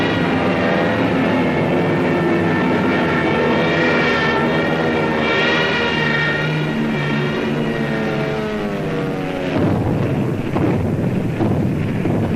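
Second World War aircraft of the Battle of Britain drone overhead in a steady, loud, broadband roar with wavering engine tones, continuous for the whole stretch, with no voices.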